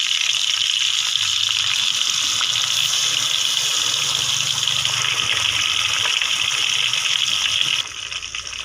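Fish pieces deep-frying in hot mustard oil give a loud, steady, bright hiss that runs unbroken and drops slightly in level near the end, with no voices.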